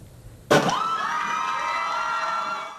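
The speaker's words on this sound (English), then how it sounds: "Most people don't get an entire store to cheer for them when they walk in" An entire store crowd bursts into loud cheering and shouting all at once as a boy walks in, the roar sustained and gradually fading after a sudden start.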